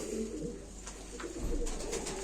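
Pigeons coo in a soft, steady murmur at a pigeon auction, low and continuous across the short stretch with no voices over it.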